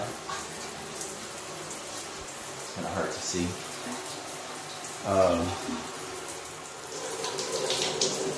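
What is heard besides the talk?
shower and bathtub faucets running water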